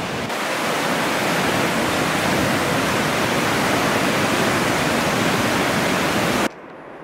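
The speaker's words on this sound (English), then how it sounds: "That is the strongest stream or rapid I've ever seen. And it's damn loud!" A powerful roar of rushing mountain river rapids fills the air, loud and continuous, then drops off abruptly near the end.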